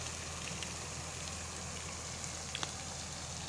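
Water sprays from a fountain in a park by Sangram Sagar lake in Jabalpur. It makes a soft, continuous rain-like hiss with faint scattered splashes, and no one talks over it.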